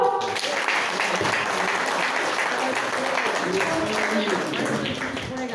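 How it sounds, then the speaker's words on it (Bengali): An audience claps steadily in dense, continuous applause that holds at an even level throughout, with a few voices faintly underneath. "সবাই হাততালি দাও।"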